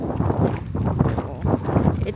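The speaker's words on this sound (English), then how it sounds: "Oh, it's windy." Gusty wind buffets the microphone in low, rumbling bursts outdoors at a scenic coastal spot, loud and close with no clear talk over it.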